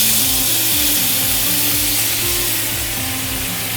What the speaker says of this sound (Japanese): それでシェリービネガーをデグラセしてます